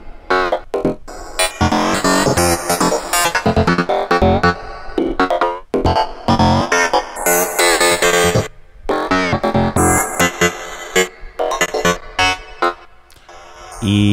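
A glitchy psytrance wavetable synth lead made in Ableton Live, playing loud, dense stuttering bursts with rapid chopped gaps and shifting tones throughout, no speech.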